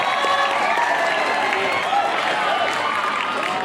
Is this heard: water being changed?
no